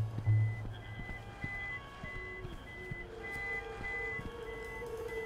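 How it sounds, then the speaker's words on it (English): An alarm beeps repeatedly in short, evenly spaced tones at moderate loudness, running steadily against a faint low background hum. "How do I turn off that alarm?"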